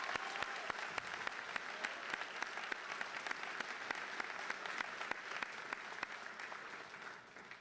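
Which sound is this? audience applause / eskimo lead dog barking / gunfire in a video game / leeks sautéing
audience applause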